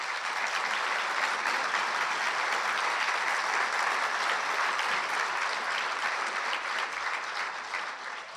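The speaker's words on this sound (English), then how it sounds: "So please, a round of applause for him." An audience at a hometown heroes ceremony applauds a medal recipient with steady, dense clapping that holds at an even level for the whole stretch and fades slightly at the end.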